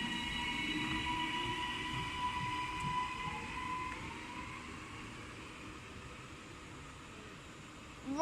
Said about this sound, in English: Right, what an excellent train.